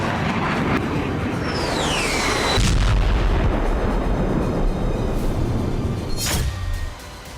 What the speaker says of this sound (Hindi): यूक्रेन में रूस के बारूदी प्रहार का तूफान शुरू हुआ और कई घंटे तक चलता रहा